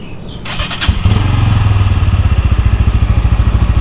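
A Bajaj Pulsar N160 motorcycle is started up close: a brief starter whir, then the engine catches and settles into a loud, steady, rapidly pulsing idle.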